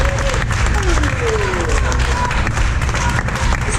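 Steady, dense applause and cheering from a crowd welcoming Papa Roach to a Hellfest 2023 press conference, with a few whoops and voices cutting through the clapping.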